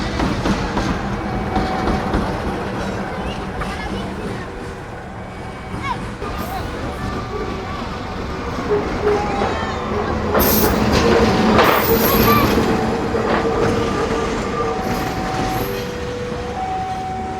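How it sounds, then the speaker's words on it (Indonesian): A locomotive shunting at Probolinggo station, with continuous rumbling, clattering wheels and occasional metallic squeals and tonal hoots, fairly loud and steady throughout, with people's voices faintly mixed in. "Oke, lanjut, ini langsiran lokomotif."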